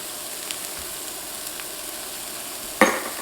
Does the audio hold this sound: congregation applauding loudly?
no